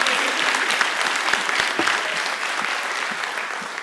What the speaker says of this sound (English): can we have one big round of applause for Hester Bell, Director of the University